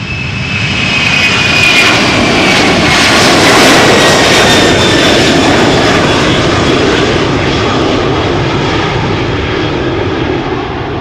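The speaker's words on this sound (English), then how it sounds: "767-300, flight 501, 23-year-old airplane" A Boeing 767-300 takes off from Schiphol's Polderbaan runway, engines roaring loudly and continuously, a broad rushing thunder with a faint high whine on top that slowly fades.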